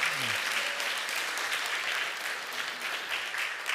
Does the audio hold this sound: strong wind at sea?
no